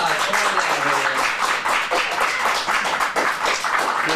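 A small group of people at a kids' acting showcase claps in quick, uneven bursts for a few seconds. The clapping is close and lively.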